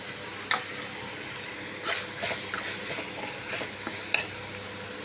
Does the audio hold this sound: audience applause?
no